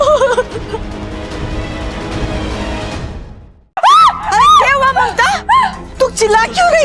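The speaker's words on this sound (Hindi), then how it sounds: "चिल्ला क्यों रही है?" A woman lets out a loud, sustained scream of fright at a snake, then falls silent. Agitated voices follow, loud and close.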